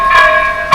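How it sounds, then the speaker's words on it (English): Naivedya bells at Tirumala temple ring out with a bright, sustained metallic tone, struck once and then again at the end of the short burst, loud and close. "So these are called the Naivedya bells."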